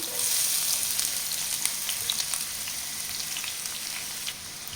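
Sliced onions fry in a pan with clove, cinnamon and bay leaf. A bright, crackling sizzle fills the pan, scattered pops come through it, and a few light stirring scrapes sound up close.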